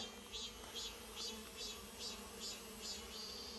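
Honeybees buzz continuously around a native-bee hive box, with a steady, fairly quiet drone and a few fly-by buzzes pulsing past in a regular rhythm; no voices.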